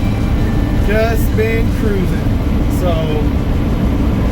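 A car cruises along a highway with a constant loud low road and engine rumble filling the cabin, while someone talks over it.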